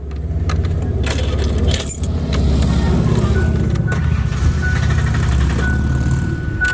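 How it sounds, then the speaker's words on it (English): A broken-down Ford Explorer with a suspected failing fuel pump cranks, then stalls: a steady, loud, low engine rumble close by for several seconds, with keys jingling near the ignition. "it's turning over,"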